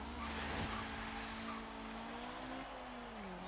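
A 1970 Honda S800 in Forza Horizon 3 revs high past 8,000 RPM, its engine a steady buzzing drone with a brief tire squeal, alone and fairly quiet.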